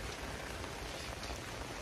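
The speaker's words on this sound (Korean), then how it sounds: "오늘 비가 오는데도" Steady rain falls on an outdoor football field, a dense, even hiss of raindrops that stays at the same level throughout with no voices.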